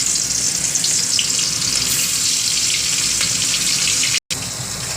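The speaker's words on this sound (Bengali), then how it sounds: "তেলটা গরম হয়ে গেছে, মাছটা ভেজে নেব।" Rohu fish pieces fry in hot oil in a wok, giving a loud, steady, close crackling sizzle that runs without pause except for a brief break near the end.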